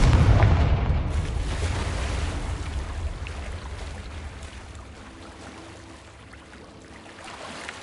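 A Confringo explosive spell in Hogwarts Legacy bursts as a loud, booming blast right at the start, then rumbles and fades into a low roaring wash.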